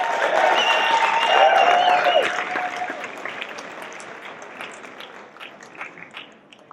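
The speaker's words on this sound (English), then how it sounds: "And may I have a big round of applause" Audience applause and cheering for a speaker at a storytelling talk, loud clapping with whoops at first, then gradually thinning out to scattered claps.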